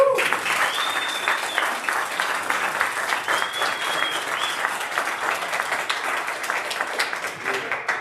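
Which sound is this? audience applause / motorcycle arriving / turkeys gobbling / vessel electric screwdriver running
audience applause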